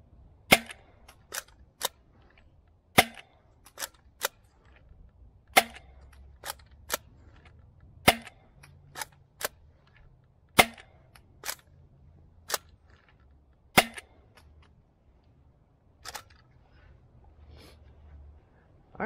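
A toy dart blaster fires Dart Zone bamboo darts through a chronograph, giving a long series of sharp, loud single snapping shots with irregular gaps of roughly a second, close by and alone over a faint low background hum.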